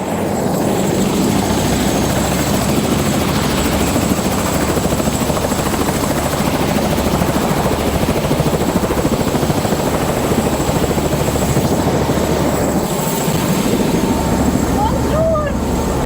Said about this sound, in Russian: Садимся в вертолет.